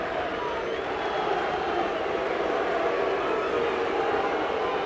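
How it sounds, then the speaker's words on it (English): A rugby league crowd at a Hull KR versus St Helens cup match jeers the referee with a steady, distant roar. "The crowd giving Mr. Clown a bit of the bird there."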